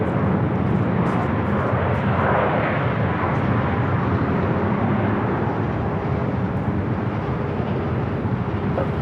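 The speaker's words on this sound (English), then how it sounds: "Starlux Flight 6 coming in from Taipei." Starlux Flight 6 arrives at Los Angeles International Airport from Taipei, its jet roar loud and unbroken, filling the whole stretch at constant strength.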